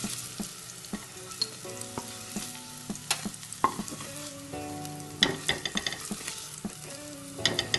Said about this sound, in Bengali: উচ্ছে ভাজা হয়ে গেছে, এবার উচ্ছেগুলোকে তুলে নিচ্ছি।